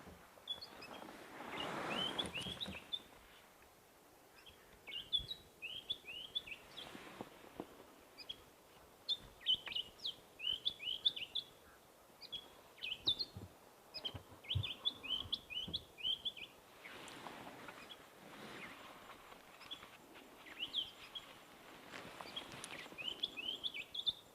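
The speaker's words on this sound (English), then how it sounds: "The long-billed crombec busy jumping around on the right there." Long-billed crombec calling from a stand of small trees on a live safari; repeated quick, high chirping phrases come in bursts over about twenty seconds, faint and a little distant, with soft rustling between them.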